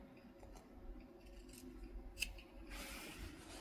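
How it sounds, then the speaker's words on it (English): Scissors snip off thread ends on a handmade competition ribbon, giving quiet, close cutting sounds with one distinct sharp snip and a soft rustle afterward. "So we're just going to cut these little guys off."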